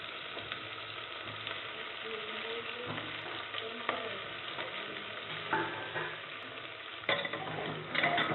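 Tomatoes and onions frying in a pan for a South Indian tomato sabzi, stirred with steady scraping strokes over a continuous close sizzle, no voices.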